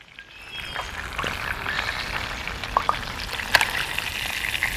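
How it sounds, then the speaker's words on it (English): Curry chicken frying slowly in a clay pot over a fire, a soft even sizzle with scattered small pops and crackles, moderately quiet and without voices. "I don't want it to fry too crispy, too fast, right?"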